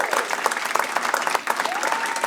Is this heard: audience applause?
yes